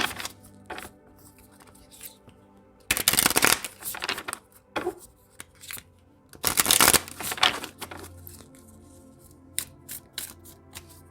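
Oracle cards riffled and shuffled by hand in two loud bursts, with softer card flicks and taps in between and no talking.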